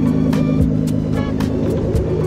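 Nissan Skyline R33 engine idling and rumbling nearby at a Daikoku parking area at night, a steady low throbbing drone with faint pulsing harmonics, fairly loud and continuous with no talk over it.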